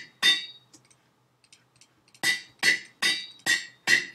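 Minecraft anvil being used in the game, a bright metallic clang followed after a pause by a rapid series of five ringing clanks, close and loud with no talk.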